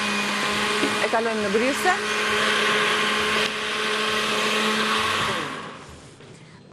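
An electric blender runs loud and steady, mixing honey, orange juice and apple, its whirring pitch dipping briefly as the load shifts before winding down at the end, with a short spoken remark over it.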